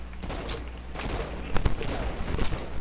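A video game firefight crackles with repeated, fairly close gunshots in an uneven rapid rhythm over a low rumbling background, with a voice in the mix.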